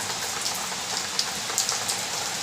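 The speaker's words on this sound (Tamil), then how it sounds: "அங்கேருந்து மழை பயங்கரமாக பெய்யுது" Heavy rain pours down outside in a steady, dense hiss, with scattered sharper drops pattering close by throughout; no voices.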